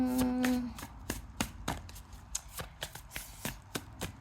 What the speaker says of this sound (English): I'm going to give these ones a quick shuffle.